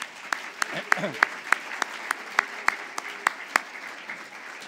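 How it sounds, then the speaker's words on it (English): An audience at a college president's address gives a round of applause, heard as a string of distinct, sharp, fairly loud claps in an uneven rhythm, joined by a brief voice. "Let's give him a round of applause."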